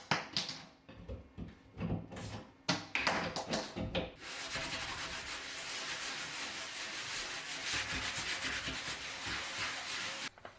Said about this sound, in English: I filled in all the holes with spackling and came back later to sand them down